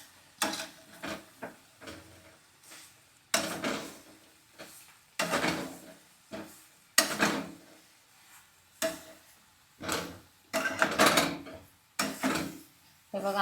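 A spoon scrapes and clatters in a pan, stirring soybean chunks through fried onion over low heat, in repeated rhythmic strokes with pauses between them.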